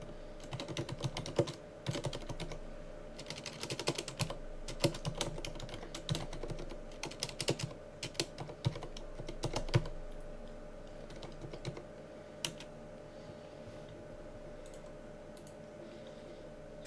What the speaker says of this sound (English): It's supposed to let me use my keyboard.